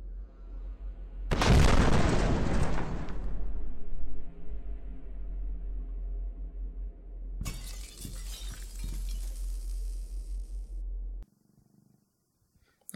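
A bomb detonates in the space station game Space Station 13 with a loud, broadband blast that holds for about two seconds, then falls to a low rumble with crackling debris and a later burst of glassy shattering.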